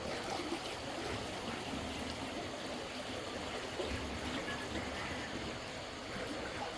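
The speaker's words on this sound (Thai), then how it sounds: "เสียงน้ำไหล" Water flows continuously near a guest room in Vang Vieng, Laos, with a soft, steady rushing and trickling, fairly quiet and unbroken throughout.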